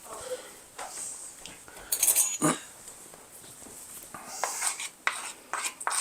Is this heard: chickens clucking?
no